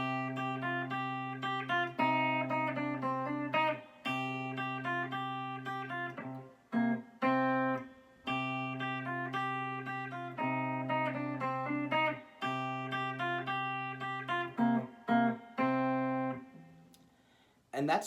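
A clean, undistorted electric guitar plays an intro melody together with a low bass note, a steady phrased sequence of plucked notes over a sustained root that repeats in cycles, close and alone.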